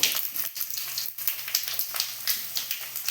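Shredded coconut with a little cumin frying in a pan for dalia khichdi, a faint, close crackle with quick irregular stirring scrapes, no talk.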